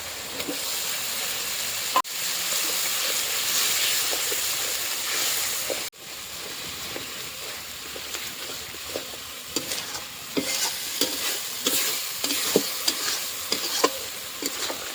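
Chopped tomato fries with turmeric and spices for a potato curry, giving a steady sizzle broken by two sharp clanks and bursts of stirring scrapes in the pan, with no talk.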